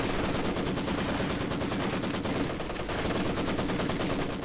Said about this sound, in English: Double machine guns locking that down